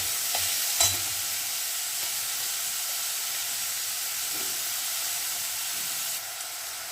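Tomato, garlic and onion sizzle in mustard oil with dried chilli and cumin tempering in a kadai; a steady close frying hiss, a sharp utensil knock early on, and the sizzle continuing alone without talk.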